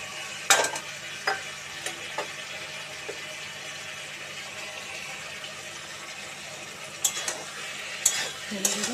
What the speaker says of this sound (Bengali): বড়িগুলো নাড়িয়ে চাড়িয়ে ধনে পাতাগুলো ছড়িয়ে দিলাম